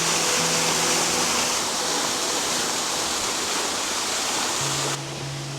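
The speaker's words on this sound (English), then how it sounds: "That is a very pretty waterfall." Steady, loud rush of falling water, a dense roar with no letup, dropping slightly in level near the end.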